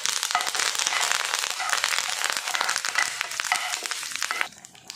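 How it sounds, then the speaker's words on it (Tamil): Mustard seeds, urad dal, dried red chili and curry leaves frying in hot oil for a masala tapioca dish: a loud, dense, continuous sizzle with fast crackling pops, close up, cutting off abruptly near the end, no speech. "கடுகு உளுந்து நல்லா இதை பொரிய ஆரம்பிச்சிருச்சு"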